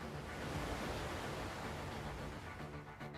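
Steady roar of a waterfall in the Fate Grand Order video game, a dense, continuous rush of falling water filling the scene at constant loudness with no talk.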